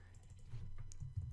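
Keys tapped on a computer keyboard in a steady run of quiet clicks, close by, under a low hum.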